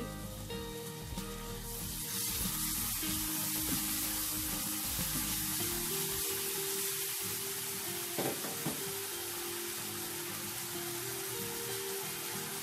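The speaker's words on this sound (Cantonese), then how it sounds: "爆一爆呢個麵豉" Continuous sizzle and crackle of fermented soybean paste frying in a pan over low heat, with spatula scrapes and stirring noises now and then; no talking.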